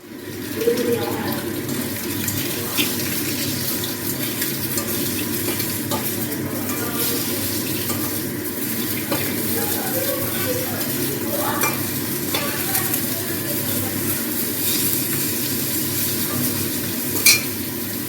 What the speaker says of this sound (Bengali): আমি এই যে এদিকে রান্না বসিয়ে দিয়েছি, মাছ ভাজছি।